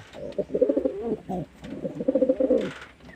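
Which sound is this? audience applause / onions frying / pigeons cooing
pigeons cooing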